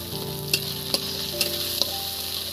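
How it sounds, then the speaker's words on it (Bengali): Chopped onions frying in oil in a pan for a raw-banana kofta curry, a steady close sizzle with four sharp scrapes of a spoon stirring at regular intervals. "এবার এর মধ্যে কুচি কুচি পেঁয়াজ অল্প একটু দিয়ে দিচ্ছি"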